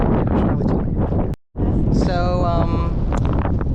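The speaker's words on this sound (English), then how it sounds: "the wind here is quite insane." Strong, gusty wind buffets the microphone at Arches National Park, a steady roar that drops out briefly and then returns, with someone speaking over it.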